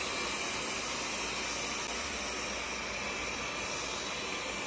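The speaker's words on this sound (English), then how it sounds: "G's setting is on strong suction, so it's a little bit more audible than the normal setting" A WYZE robot vacuum runs on its strong suction setting indoors, a steady even whooshing hiss throughout with a kitchen vent fan adding to the noise.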